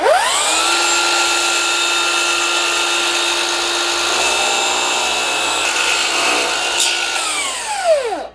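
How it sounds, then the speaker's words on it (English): A miter saw cuts through a foam faux wood beam, one loud continuous whine that holds steady for about eight seconds, then winds down at the end. No talking. "being that we do have a miter saw, we're going to go ahead and make some cuts on here"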